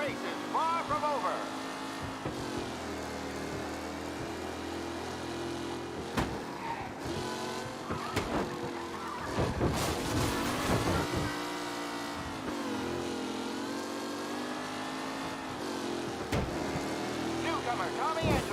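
Race cars roar past in a pack during a street race in Mafia: Definitive Edition, engines droning and revving steadily throughout with music and a commentator's voice layered over the top.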